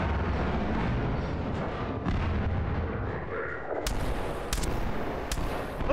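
Gunfire in Half-Life 2 aimed at the player as he swims through water, heard as a dense, continuous rattle of muffled shots and booms with sharp bursts near the end, loud and steady throughout.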